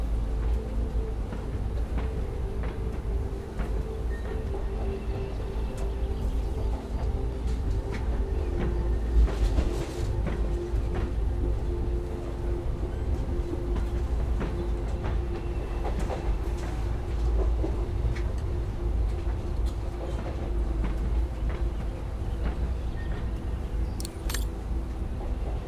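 A train rolls steadily along rails in the video game Syberia The World Before, a continuous loud rumble with faint clicks and rattles over the whole stretch and no voices.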